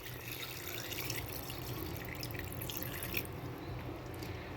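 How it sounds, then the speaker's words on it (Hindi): Water trickles and splashes steadily as about half a glass is poured into a pot of cooking tripe, a close, continuous liquid pour with no voices. "इसके बाद हम इसमें तकरीबन हाफ गिलास पानी का ऐड करेंगे।"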